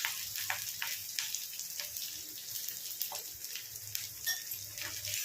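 Curry leaves and turmeric frying in a pan for a two-egg dish give a steady, close sizzling hiss with scattered sharp crackles and pops throughout, with no talking.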